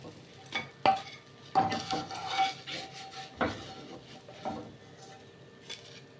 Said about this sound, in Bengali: মাছগুলো এবার তুলে নিচ্ছি।